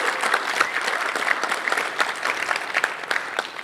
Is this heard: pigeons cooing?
no